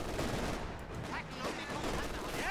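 MG34 machine gun firing in the Company of Heroes 2 video game: rapid, dense bursts of distant gunfire mixed with battlefield noise, fairly quiet overall.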